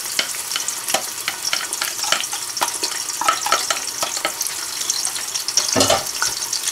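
Onions sizzle loudly in hot oil in a cooking pot while a utensil scrapes and stirs in irregular clicks, close and continuous with no talking.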